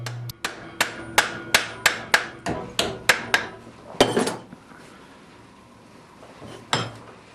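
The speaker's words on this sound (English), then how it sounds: "Now that the rough forging is all done" A blacksmith hammers while forging a chest hinge, striking about a dozen sharp, ringing metal blows in a steady rhythm. A last louder hit follows, then a pause and one more faint strike.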